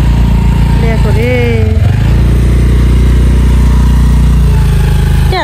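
Scooter engine running nearby on a village path, a loud, steady motor drone with rising and falling revs, heard under people talking.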